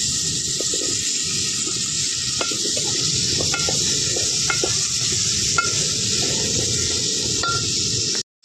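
Potatoes sizzle and fry in a pan of green mussel masala with tomato, a steady close hiss and crackle broken by occasional stirring knocks and scrapes, with no talking.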